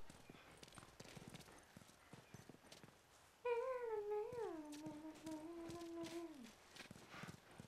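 Horse hooves clip-clop in The Last of Us video game, a steady moderate patter that continues as a loud horse whinny cuts in midway, with no speech.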